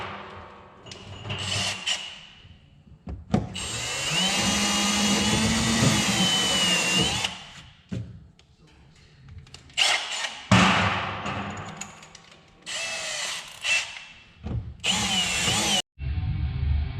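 Power drill boring into a low pressure fuel pump, the motor whining in several bursts of varying length with short pauses between them, loud and close, with no talking.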